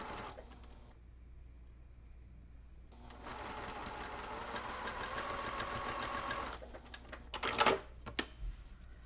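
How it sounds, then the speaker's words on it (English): A sewing machine stitches a quilt block in two runs. A short burst comes first, then a pause, then a longer steady run of fast mechanical whirring. Clicks and handling noises follow at the end. "And then we're going to sew this."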